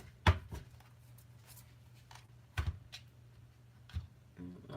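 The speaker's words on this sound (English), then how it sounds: "If you can actually see me shuffling." Tarot cards being shuffled by hand in a quiet room, with a few soft, brief riffling and tapping bursts spaced a second or two apart, close but faint.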